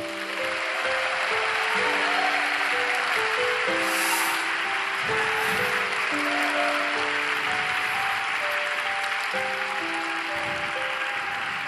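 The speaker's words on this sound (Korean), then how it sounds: "우리 김승수 목사님 나오실 때 큰 박수로 환영해 주시기 바랍니다" A church young-adult worship congregation applauds steadily to welcome a pastor to the front, a dense, continuous wash of clapping lasting the whole stretch with sustained musical tones underneath.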